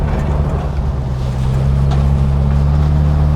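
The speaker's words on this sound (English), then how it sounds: "Getting out on these gravel roads, tooling around, seeing what you can find." A Jeep Wrangler YJ driving on a gravel road, with a steady, loud engine drone and low rumble throughout, plus constant rushing road and wind noise.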